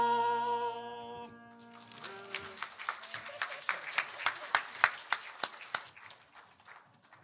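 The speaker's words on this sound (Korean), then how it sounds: "다시 한번 우리 축복의 박수 합시다" A church congregation claps together during a Sunday worship service, the applause rising out of a sustained organ-like tone into steady, sharp overlapping claps that swell and then fade.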